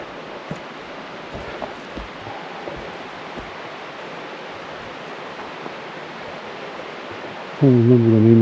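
A river on an Alaska forest trail gives a steady, even rushing wash of flowing water throughout, and a brief voice comes in at the very end.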